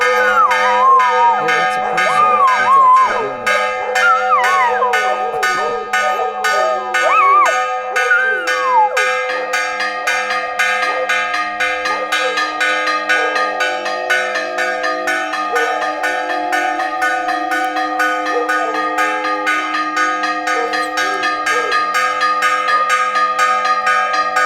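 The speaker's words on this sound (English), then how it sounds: "there was a person ringing those bells" Church bells rung by hand in Vado Real, Santander, Colombia, clang loud and close in a steady, rapid repeating peal that carries on for the whole stretch, with brief voices and other sounds early on.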